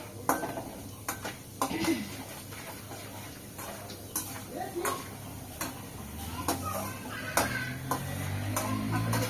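Peanuts being dry-roasted and stirred in a pan for a homemade snack, with repeated scraping and clinking of a spoon against the pan and a faint background hum, no voices.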